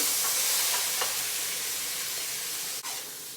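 Shrimp fried rice sizzling in a hot wok, a steady loud hiss of frying that fills the moment, with a brief scrape near the end and no talking.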